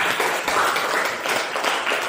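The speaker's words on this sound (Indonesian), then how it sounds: "Tepuk tangan untuk teman kita." Junior high school students in a classroom clap for a classmate, a brief burst of fairly close, steady hand clapping from a small group with no talk over it.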